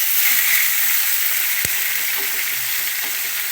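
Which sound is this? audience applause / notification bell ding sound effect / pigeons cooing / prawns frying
prawns frying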